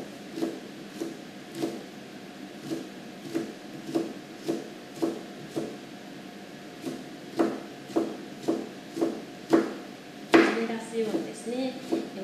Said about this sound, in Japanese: 今度は細切りにしていきます。